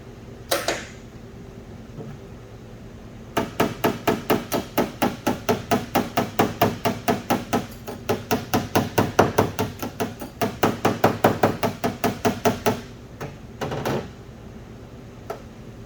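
A hammer taps metal Ford Ranger body panels in a long, steady run of sharp, rapid metallic strikes, close and fairly loud, with a couple of isolated taps before and after.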